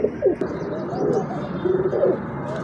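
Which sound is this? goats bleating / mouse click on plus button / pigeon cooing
pigeon cooing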